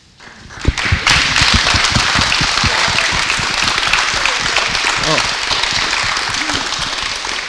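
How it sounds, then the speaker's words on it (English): Audience clapping at a Disability History Month event swells quickly from quiet into loud, close, sustained applause with distinct individual claps and a few voices talking underneath. "I don't know why you're clapping me"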